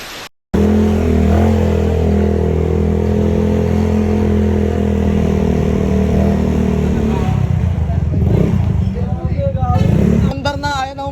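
An engine cranks and catches after a short silence, then runs loud and close with a steady rumbling idle that grows rougher and rises in revs toward the end.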